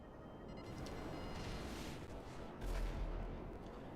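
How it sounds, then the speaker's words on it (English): A missile launched and exploding in a video game, heard as a low rumbling roar with a swelling boom partway through, fairly quiet and continuous, with no talk over it. "that missile curved quite a bit"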